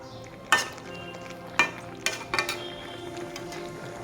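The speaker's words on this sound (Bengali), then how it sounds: "ভালোভাবে নাড়িয়ে চাড়িয়ে তা একটু হতে দিতে হবে" Shukto vegetables stirred in a pan with a spatula: four or five distinct scraping knocks against the metal over a faint sizzle, close and moderately loud, without speech.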